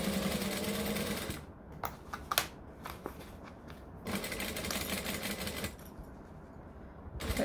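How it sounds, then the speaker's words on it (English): A sewing machine stitching a half inch seam on a tote bag, with bursts of fast rhythmic needle chatter broken by short pauses for back stitching, close and clear, with no talk. "Let us stitch with a half inch seam allowance. Stitch, back stitch."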